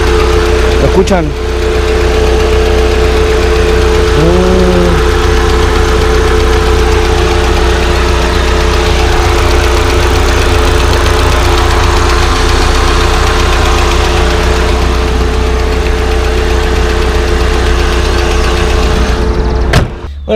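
Chevrolet Corsa engine with a direct intake, idling roughly with a persistent bad knocking beneath a steady low drone, close and loud for about twenty seconds, with a brief rev near the start.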